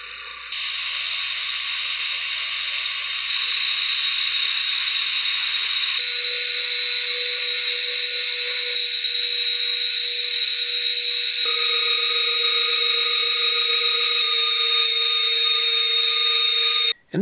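Beta FPV 1102 13,500 kV brushless motors on an HX100 SE drone, running on 1S, give a loud, steady high-pitched whine that holds alone for the whole stretch, with small pitch shifts as the throttle changes before it cuts off abruptly.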